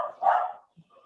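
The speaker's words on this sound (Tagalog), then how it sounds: "Pasensya na po sa ingay ng aso namin." A dog gives a short, sharp bark nearby, followed by a faint softer yip, with no one talking.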